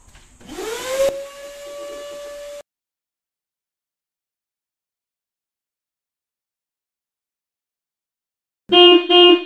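A vacuum cleaner sucks sand out of the air filter housing of a 2021 Toyota Vios, whining up to a steady hum for a couple of seconds before cutting off. A brief, bright tonal sound follows after a long silence.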